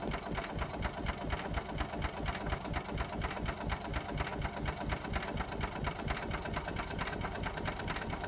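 A golf cart engine runs with a steady, rapid chugging rhythm that gradually quickens, loud and close with no talking over it.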